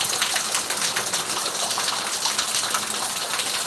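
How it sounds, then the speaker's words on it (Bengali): Heavy rain pours down in Noakhali, a dense, steady roar of hiss that holds at an even, loud level throughout, with no voices heard. "আমাদের নোয়াখালীতে বৃষ্টি হচ্ছে"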